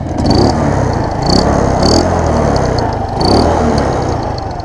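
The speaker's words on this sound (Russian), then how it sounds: "Вы только послушайте этот звук." A small motorcycle engine running near, with a rough, uneven mechanical chatter that swells and falls in several surges, like brief throttle blips over an idle.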